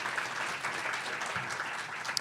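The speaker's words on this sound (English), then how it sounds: "Let's give a round of applause to everyone involved here." An audience at a library forum on collections and access gives a round of applause, a steady wash of many hands clapping at moderate distance that holds evenly throughout.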